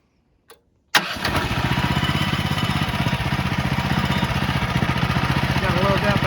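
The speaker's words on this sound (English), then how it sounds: "Gotta love that battery start." A battery-start sawmill engine cranks and catches after a brief click, settling into a loud, steady, fast chugging idle close by.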